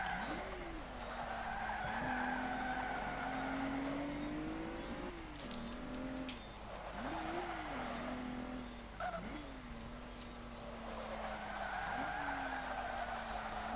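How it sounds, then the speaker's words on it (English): Tires skid and squeal as a 2014 Rolls-Royce Wraith drifts in the racing game Forza 5, with repeated rising and falling screeches over a steady engine hum. "Yeah, this car loves to drift."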